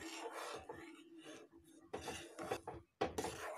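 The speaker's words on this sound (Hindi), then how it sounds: "अब कस्टर्ड वाले मिल्क को इसमें डाल देंगे और चलाते जाएंगे" A spoon scrapes and stirs custard milk in a metal pan, producing uneven rubbing and clinking strokes with brief gaps, fairly quiet and close.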